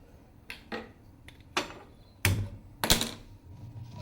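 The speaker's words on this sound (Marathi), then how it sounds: "आता आपण गॅस चालू करूया" A gas stove under a pressure cooker is switched on with a few sharp clicks and knocks, spaced irregularly over a few seconds in a quiet kitchen.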